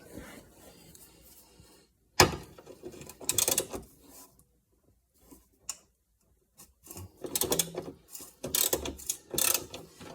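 A ratchet with a 10mm socket clicks in quick bursts while removing a bent rear suspension bracket on a Rover 75/MG ZT, with pauses and some quieter knocks between the bursts.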